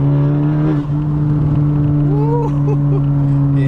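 A Honda Type R engine with a cold air intake drones loudly with a strong steady hum in third gear, then dips briefly as the revs shift, with a faint whine rising and falling.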